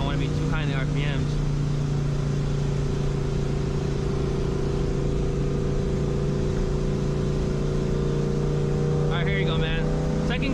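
Supercharged 2004 Ford Mustang GT V8 drones steadily while driving, a loud continuous engine hum under the cabin, with brief voices speaking near the start and end.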